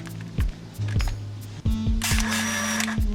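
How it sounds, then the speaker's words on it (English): Minolta Freedom III film camera with its auto winder advancing film: several sharp mechanical clicks, then a raspy, whirring motor run with repeated ticks, close and loud, no talking. "So it has an auto winder"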